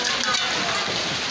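Heavy rain with hail in Lahore, Pakistan, pounding hard on a surface, a dense steady hiss of impacts with scattered sharper hits, loud and close.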